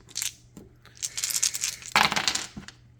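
A handful of dice clatter and roll across a table in a board game, several sharp rattling bursts in quick succession, close and fairly crisp against a quiet background.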